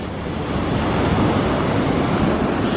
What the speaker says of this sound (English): you can tell that the waves have got so big